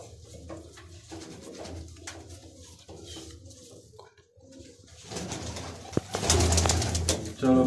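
Flying pigeons cooing near a loft, low murmuring coos at moderate distance, growing louder and busier toward the end with a brief flutter.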